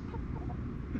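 Chickens cluck softly in a farmyard where a puppy twice their size roams, with a steady low background murmur and no talk.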